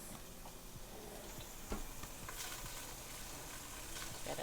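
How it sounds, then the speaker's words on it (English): Vegetables searing in fat in a pot, a soft steady sizzle with occasional clicks and scrapes as a utensil stirs them, quiet and close. "Okay, let's stir this."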